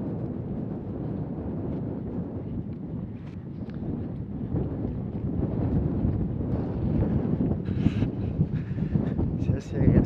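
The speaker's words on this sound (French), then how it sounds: "Là clairement il y a du vent." Gusty wind buffets the microphone on the Royal Cinque Ports golf links course, a constant low roar that swells toward the end, with people talking throughout.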